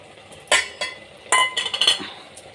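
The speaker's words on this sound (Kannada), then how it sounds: "ಹಾಕಿ ಸ್ವಲ್ಪ ಮಿಕ್ಸ್ ಮಾಡೋಣ" Chili powder being stirred into a pot of brinjal and tomato sambar, heard as several clinking scrapes of a metal spoon against the pot in two short bursts, close and fairly loud, with no talking.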